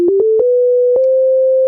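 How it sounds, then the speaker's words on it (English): A synthesizer sounds a pure sine wave tone, held steady and clean after a few quick clicks as the pitch steps up slightly, loud and alone with no other sounds. "So this is a sine wave here."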